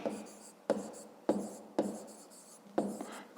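Pen writing by hand in a notebook during a fifth-grade maths exercise: quiet, close scratching strokes in short bursts, each starting with a sharp tap of the pen on paper, about five strokes in a row with no talking.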